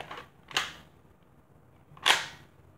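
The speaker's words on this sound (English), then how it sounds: "These are gonna be some Nerf reloads with the sharpfire." A Nerf Sharpfire blaster being reloaded: two sharp, close plastic clacks about one and a half seconds apart, each a quick mechanical snap, with quiet room hum between them.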